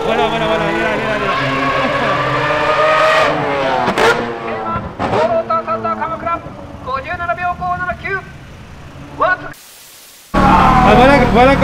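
A Mazda rotary-engine race car shooting flames revs hard in a paddock at Tsukuba, with a high buzzing rasp, repeated sharp blips, a brief pause, and a return to full revs, while someone speaks over it.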